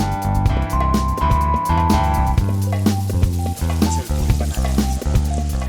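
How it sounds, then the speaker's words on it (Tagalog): Marinated pork for katsudon sizzles steadily in a pan, a continuous crackle with tonal music playing over it throughout. "Matapos iprito ang marinated pork, ihahalo ito sa katsudon sauce"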